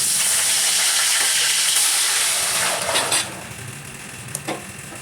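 Lassi hits a hot pan for kadhi pakora with a broad, loud sizzling hiss that gradually settles, broken by a few soft clinks and stirring sounds.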